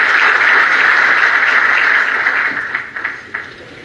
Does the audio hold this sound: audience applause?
yes